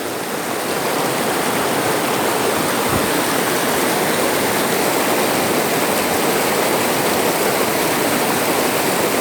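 Steady river water rushes and flows without a break, a dense, even wash of sound that stays close and constant throughout.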